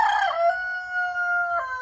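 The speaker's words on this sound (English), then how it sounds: "There's a rooster that got out." A loose rooster crows nearby, a single loud drawn-out cock-a-doodle-doo with a sharp rise at the end, heard alone outdoors.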